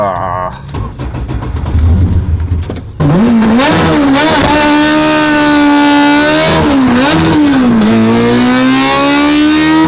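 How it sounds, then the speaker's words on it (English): A 450-whp Honda race car does a burnout, its engine revving loud and close with a sustained high roar that rises and dips in pitch after a rougher opening rumble. "Now that's a burnout, baby."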